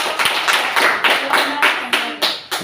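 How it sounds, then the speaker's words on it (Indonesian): A class of students claps for a student group, a close, loud run of rhythmic claps with several distinct strong beats, no talk over it. "kita beri aplaus dulu untuk kelompok"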